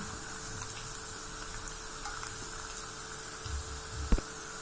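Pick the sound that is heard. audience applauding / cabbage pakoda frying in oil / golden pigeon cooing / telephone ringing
cabbage pakoda frying in oil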